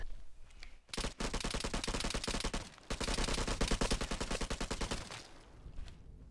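Rapid gunfire from the online shooter game Vigor, fired in dense, sustained bursts for several seconds, loud and close, with a short pause near the start and the shots trailing off toward the end.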